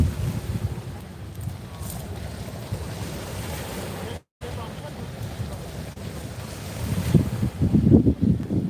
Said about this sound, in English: Can y'all still hear me over this water coming in?